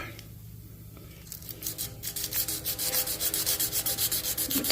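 Hand sanding of metal with 80 grit sandpaper on a 1968 Nova subframe. After a quiet start, fast, even back-and-forth rasping strokes grow loud and close, repeating in a steady rhythm.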